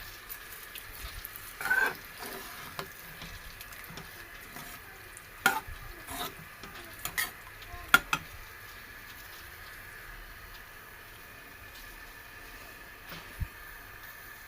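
Mashed amaranth greens with tempering stirred in a pot on the stove give faint, quiet scraping and soft spoon clicks at irregular intervals over a low simmering hiss.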